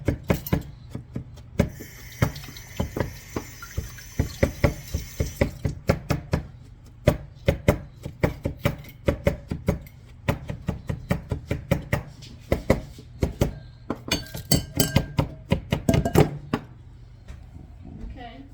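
A knife minces food on a cutting board in rapid, uneven bursts of sharp close chops, pausing briefly and resuming, with people talking at times between the strokes.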